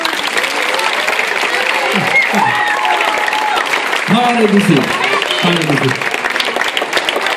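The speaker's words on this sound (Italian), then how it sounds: "Decidiamo con l'applauso," Applause from an audience in a town piazza after a Latin American dance show, a broad steady wash of clapping that runs throughout, with a voice talking over it in places.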